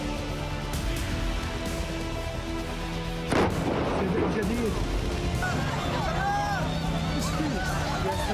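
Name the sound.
explosions and artillery fire in Rafah and Khan Younis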